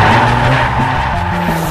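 Race car skidding to a stop in a children's story, a loud, close tire squeal over a revving engine with shifting pitch, lasting under two seconds without speech.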